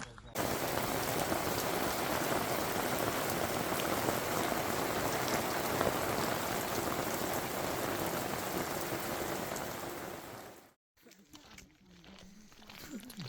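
Steady rain falls throughout on a pilgrim walking the Camino Francés, a dense, even hiss that holds loud for about ten seconds before cutting out, then quieter rustling follows.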